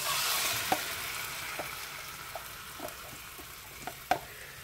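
Shrimp sizzle steadily in a hot pan with garlic butter on a stovetop, a constant frying hiss broken by occasional clinks and scrapes of a utensil against the pan, close up with no talking.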